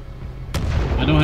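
A single sharp, loud gunshot from a weapon in the shooter game Titanfall 2 cracks out midway, followed by a sustained rumble with a voice talking over it.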